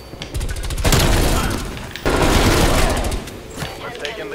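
Loud bursts of rapid gunfire in a first-person shooter video game, two long dense volleys followed by a few scattered shots, close and harsh, with a player's voice talking over the action.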